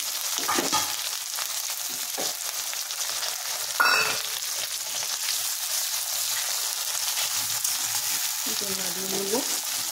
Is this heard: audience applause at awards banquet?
no